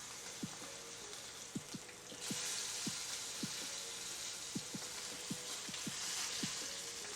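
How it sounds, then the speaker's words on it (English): Steak searing on its side in a hot pan, a steady soft sizzle with a run of sharp regular pops and taps as it is rolled around with tongs, no voices. "We're going to do a quick sear on the side"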